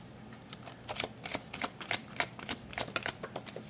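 Tarot cards are drawn and shuffled from a deck, producing a rapid run of close, crisp riffling flicks over a few seconds.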